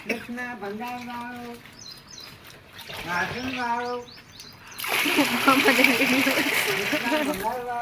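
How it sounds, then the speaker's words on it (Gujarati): People talk at first, then clothes are washed in the Raval river, with loud, close, continuous splashing and sloshing water. "કપડાં ધોવે સુમિતા બેન"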